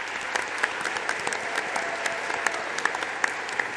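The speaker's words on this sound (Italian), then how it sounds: "Io inizierei con un grande applauso a voi che avete scelto di essere qui oggi." An audience at a school event on Latin in Emilia-Romagna breaks into big applause for the students, a continuous burst of crisp claps with a few louder hands standing out.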